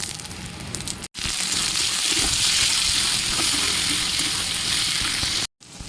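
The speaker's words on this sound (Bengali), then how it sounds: "তেল গরম হয়ে গেছে, পেঁয়াজ, টমেটো আর কাঁচা লঙ্কা কুচি" Onion, tomato and chopped green chilli hit hot oil, giving a loud, continuous broadband sizzle that runs steadily for several seconds with two brief cut-outs and no voices.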